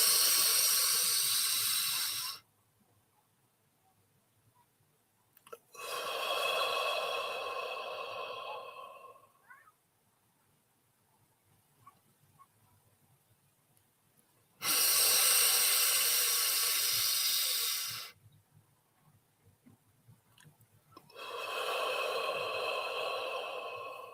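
Slow, deep breaths during a guided meditation, long airy inhales and exhales alternating with quiet pauses, close and steady, four full breath phases with no talking.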